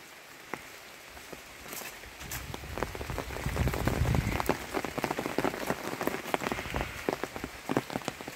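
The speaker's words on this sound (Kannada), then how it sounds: "ಮಳೆ ಬೀಳ್ತಾನೇ ಇದೆ" Heavy rain in Wayanad, Kerala, crackling and pattering on surfaces close by, building from a light patter to a dense downpour with sharp individual drop hits, no talk.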